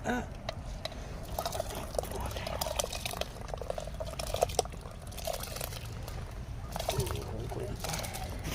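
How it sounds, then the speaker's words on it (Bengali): Rice poured into a pot of hot water for an outdoor meal cooked by a pond, giving a watery splashing and rushing pour with scattered clinks, fairly close and steady, over faint background voices. "জল গরম হয়ে গেছে চালটা আমরা দিয়ে দিচ্ছি"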